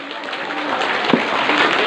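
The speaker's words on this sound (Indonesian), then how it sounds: "tepuk tangan bagi kita semua dah" Applause from an audience at an Islamic New Year 1444 H gathering in a madrasah school hall: a dense, steady patter of clapping that holds evenly for about two seconds.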